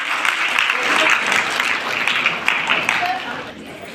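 Female students at a women's college anti-drug pledge event give a volunteer a sustained round of dense, loud applause, with some voices mixed into the noise of the clapping crowd.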